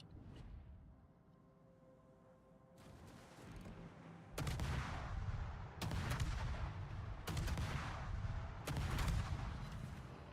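Naval guns fire in the World of Warships video game: four or five heavy booming salvos, each with a long rumbling tail, come at roughly regular intervals over a low background hum, loud and close, with no voices.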